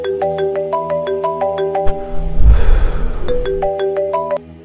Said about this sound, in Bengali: এমন সময় শঙ্করের ফোনে একটা ফোন এলো।